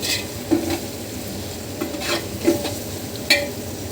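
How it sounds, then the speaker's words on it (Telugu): Spices, chili, salt and turmeric, sizzle in a pan for chicken curry, with close, steady frying hiss and several distinct metallic clinks and scrapes of a spoon stirring against the pan. "ఇదండి కారం ఉప్పు పసుపు వేసాను చక్కగా ఫ్రై అయిపోయింది కదా ఇప్పుడు చికెన్ ఇందులో వేసుకోవాలి"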